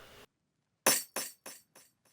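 A single bright, crisp snare hit, then a few quieter repeats that quickly decay, each burst sharp and splashy with a glassy top.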